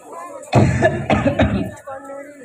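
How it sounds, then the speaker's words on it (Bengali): Three or four harsh, close coughs in quick succession from a ventriloquist performing with a puppet at a children's rice-ceremony magic show, followed by a quieter tail of noise. "তোমার কাশি হয়েছে নাকি?"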